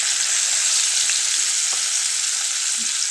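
Sarputi fish fry in hot oil over medium heat, a dense, steady sizzle with a few faint clinks and stirring touches, and no one speaking.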